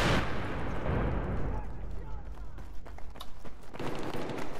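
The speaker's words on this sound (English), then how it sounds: "That's a grenade." A grenade blast in the shooter game Battlefield 3 opens with a heavy booming burst that rumbles and fades, followed by scattered gunfire cracks, with people talking over it.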